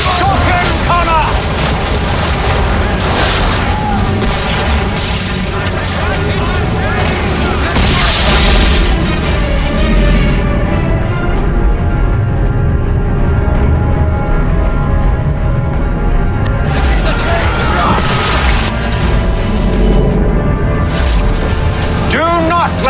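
Naval cannons boom repeatedly during a ship battle in the video game Assassin's Creed 3, heavy blasts and rumbling explosions piling up loud and near, with a brief lull midway and shouted voices over the barrage.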